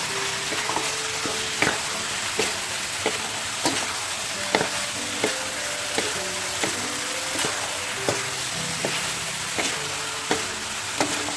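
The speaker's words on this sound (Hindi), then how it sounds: "यहाँ पे मैं ऐड करूँगा लहसुन अदरक। इसको अच्छी तरह मिलाएंगे।" Metal spoon scraping and clinking in a steady rhythm against a pan while heart, kidney and liver fry with garlic and ginger over a high flame, sizzling continuously underneath, close by and fairly loud.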